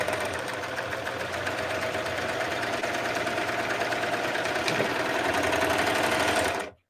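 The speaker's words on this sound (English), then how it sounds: "I'm in my 3-thread overlock" A three-thread overlock serger stitches wired ribbon for ruching, a steady fast mechanical whir that runs loud and unbroken for nearly seven seconds before stopping abruptly.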